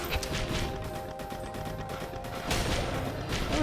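Missiles launching in the video game Risk of Rain, a dense continuous volley of rapid bursts and crackling blasts at steady loudness with a surge near the end, accompanied by faint game music tones.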